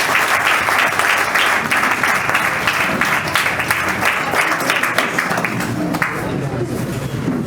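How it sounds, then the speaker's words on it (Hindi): Loud, sustained applause from a crowd of students and families at a coaching-class celebration honoring Agniveer recruits, dense clapping filling the whole stretch without a break. "जोरदार ताली हो जाए"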